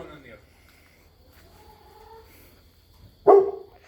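A single sharp farm dog bark near the end, after a few seconds of quiet background with faint distant sounds.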